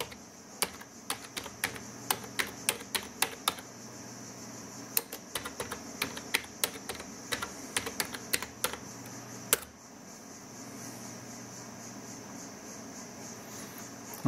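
Quick bursts of keystrokes on a computer keyboard entering a Linux configure command, crisp clicks in rapid runs with short pauses, then a sudden stop leaving faint hum.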